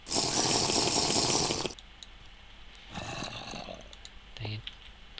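Drinking water in modded Minecraft makes a loud, splashy gulping rush lasting under two seconds, then drops to a quieter background with a short second watery burst and a few faint clicks.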